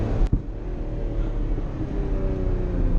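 Ferrari Testarossa engine holding a steady, loud high-rev drone near redline, with a brief sharp knock early on before the strained engine note continues unbroken.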